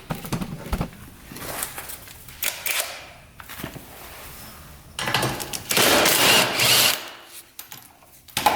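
A power tool whirs in short bursts while 7/16 bolts are removed from an ATV, with intermittent ratcheting and metallic clatter between runs, close by and moderately loud.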